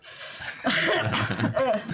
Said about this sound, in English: I have a real big cough coming up.